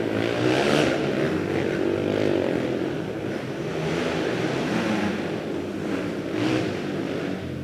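Two-stroke 400 race quads and motorcycles scream past during a points race, a steady, loud, dense engine roar with rising and falling revs from several machines at once.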